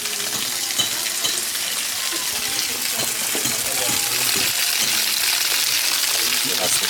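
Water gushes hard and continuously from a rural water supply tap under strong pressure, a loud broadband rush with people talking nearby throughout.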